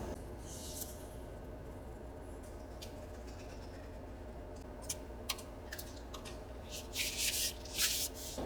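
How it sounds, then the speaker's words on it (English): Paper from junk mail is glued and folded by hand into an envelope, heard as soft, close rubbing and creasing with scattered crisp scrapes and a burst of louder crackling near the end. "This is where we're going to add glue to this side of our piece, and we're going to fold our envelope on top of it"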